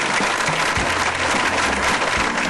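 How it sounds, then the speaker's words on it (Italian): At a ribbon-cutting ceremony a crowd bursts into dense, loud applause that holds steady throughout, with a faint low voice murmuring beneath the clapping. "Questo è il momento dell'applauso corale."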